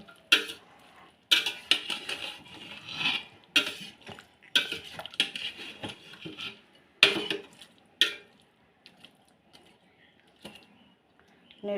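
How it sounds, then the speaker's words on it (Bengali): Ground poppy seeds, garlic and spices are stirred in a metal cooking pot, a series of sharp scraping and clanking strokes at irregular intervals with quiet pauses between, close and fairly loud. "এখন একটু নেড়ে চেড়ে দেব।"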